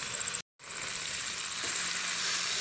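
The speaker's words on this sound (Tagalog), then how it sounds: "Stir fry lang natin ng mga 2 to 3 minutes." Vegetables (green beans, chayote, carrot, cauliflower, bell pepper) stir-frying in a pan give a steady, loud sizzle and hiss, briefly cut off near the start, then continuing unbroken to the end.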